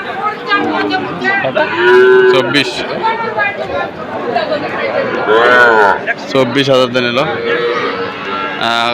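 Sahiwal cattle low at a busy livestock market, with drawn-out moos rising over constant crowd chatter and someone talking loudly nearby.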